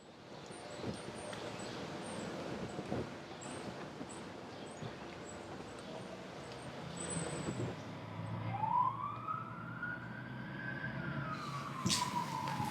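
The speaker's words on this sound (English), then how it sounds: "We've got the sirens from the police vehicle outside." Police vehicle sirens wailing outside a building, distant and rising in pitch over a low background rumble, becoming clearer toward the end.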